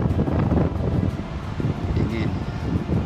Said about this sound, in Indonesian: Jadi di sini lumayan kencang anginnya tuh,